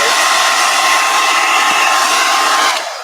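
An old-school hair dryer blows on a piece of artwork with a loud, steady whirring hum that runs alone throughout and fades slightly at the very end.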